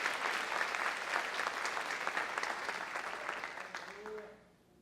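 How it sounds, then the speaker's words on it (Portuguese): Congregation applauding God during a church sermon, a dense steady wash of clapping that tapers off near the end, with a brief voice rising as it fades. "Essa hora para você aplaudir a Deus"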